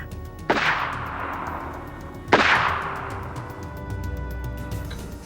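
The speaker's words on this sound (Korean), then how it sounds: "그리고 두 발의 총성이 울렸다." Two sharp gunshot-like cracks, roughly two seconds apart, fired by paratroopers in a wooded hillside behind Chosun University in Gwangju, each with a long reverberant tail over a low steady background.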